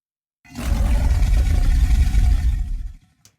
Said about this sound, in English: Then we added the alligator that helps the sound kind of still keep going past the lion roar